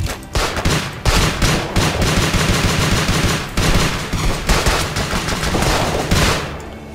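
Heavy gunfire in the Uprising44 video game, loud rapid bursts and repeated shots with a sniper among them, sustained and close, with no talk over it.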